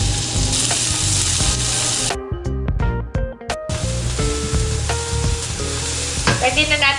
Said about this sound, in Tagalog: Mag-isa na tayo ng sibuyas.